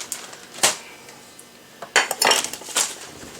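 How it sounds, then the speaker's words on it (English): Cookie dough being mixed in a bowl, a few loud clattering scrapes and clinks of a utensil against the bowl separated by quiet pauses. "Give that a mix."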